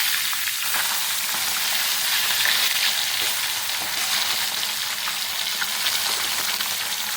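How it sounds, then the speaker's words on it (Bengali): Pieces of katla fish fry in hot oil in a pan, giving a loud, continuous, close crackling sizzle that holds steady throughout. "এই পাঁচটা ভালো করে লাল করে ভেজে নেব।"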